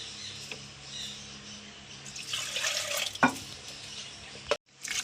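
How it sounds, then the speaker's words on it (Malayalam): Water used to rinse a blender jar is poured into a pot of dried prawn and green mango curry, a short splashing pour in the middle followed by a couple of sharp clinks of the jar or utensils. "പോരാത്ത വെള്ളം ഒഴിക്കണം ജാറ് കഴുകിയിട്ട്"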